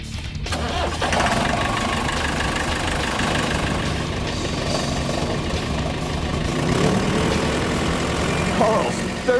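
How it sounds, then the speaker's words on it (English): A 30-ton four-wheel drive forklift's diesel engine churning steadily at a rough, heavy idle, loud and continuous in a shop setting, with faint voices in the background. "Wait till you see his forklift."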